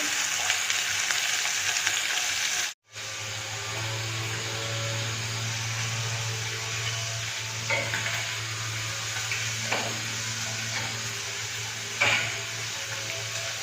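Bathala fish frying in a pan gives off steady, moderately loud sizzling and crackling with a low hum underneath, broken by one brief silent gap and a few small clinks.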